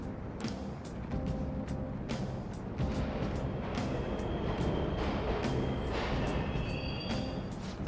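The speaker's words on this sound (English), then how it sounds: "The trains are totally running!" Subway trains running in a Mementos tunnel in Persona 5 Royal, a steady rumble with repeated clacks and brake-like squeals, moderately close and continuous.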